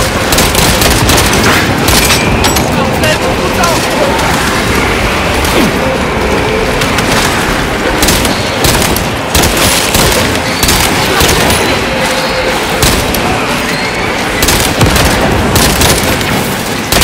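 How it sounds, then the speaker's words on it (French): Frag grenade blasts and sustained gunfire in the video game Warhammer 40K Space Marine 2, a loud, dense barrage of booming explosions and rapid shots that continues without pause. "Grenade frag lancée."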